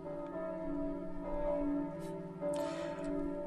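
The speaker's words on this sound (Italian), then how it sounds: "Per un motivo o per un altro c'è sempre una campana che suona." A church bell rings in a small Italian village, with a sustained, humming tone and resonant overtones that swell and fade at a soft, moderate distance.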